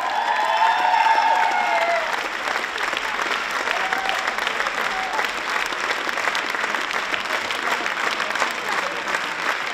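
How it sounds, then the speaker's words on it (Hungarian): Sustained applause from an audience at a Hungarian women's carnival (asszonyfarsang) show thanks the performers, a steady dense clatter of many hands over about ten seconds with a few shrill whoops at the start. "Nagy tapsot nekik a produkcióért!"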